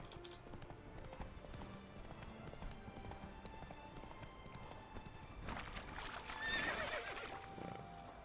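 Steady clip-clop of horse hooves trotting in The Witcher 3: Blood and Wine, with a horse whinnying partway through over a continuous background of game ambience.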